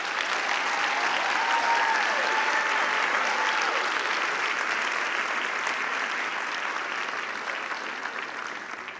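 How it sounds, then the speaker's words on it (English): A large crowd at a university autumn graduation ceremony in Gqeberha applauds the graduates, a loud, sustained wash of clapping that fades slightly toward the end. "Please give all our graduates a round of applause."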